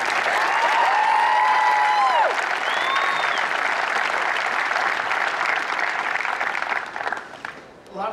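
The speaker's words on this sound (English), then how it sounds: "Please, big round of applause for Deshaun." A school celebration audience breaks into sustained applause and cheering, with whoops and shouts over dense clapping that carries on for several seconds before tapering off at the end.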